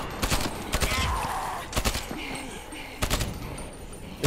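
Gunfire in the Dying Light video game crackles in several quick bursts, sharp repeated shots in clusters across the clip, fairly close and moderately loud, with no voices heard.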